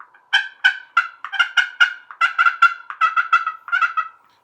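Hen turkey calling from a tree just before fly-down, imitated on a call: a clear, close run of about sixteen sharp, evenly spaced yelps with no talk.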